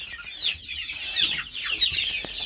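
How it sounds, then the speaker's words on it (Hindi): Turkeys, a larger male and a smaller female, give a steady run of high, scratchy clucks and chattering calls, fairly close and continuous with no talk over them. "टर्की बर्ड्स और दूसरा ये रहा"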